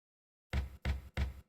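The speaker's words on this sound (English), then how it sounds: "That's a loud knock." A door in The Crimson Diamond video game is knocked three times, loud and close, the heavy thuds evenly spaced and alone with no voices around them.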